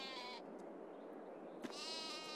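Merino sheep bleat in the farming video game Farming Simulator 22, two wavering calls with a short gap between them, faint and fairly close, with nobody talking.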